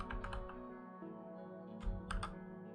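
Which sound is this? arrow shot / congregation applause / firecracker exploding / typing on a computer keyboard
typing on a computer keyboard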